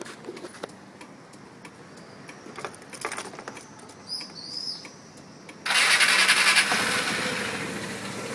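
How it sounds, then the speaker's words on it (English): Ticking clicks and a short whine give way to a Piaggio Xevo 250ie scooter's engine catching and settling into a steady, close idle for the final seconds. "Let me turn on the bike."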